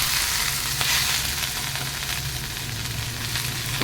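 Chinese kangkong stems hitting hot oil in a pan, a loud, dense, continuous sizzle and crackle heard up close and alone throughout.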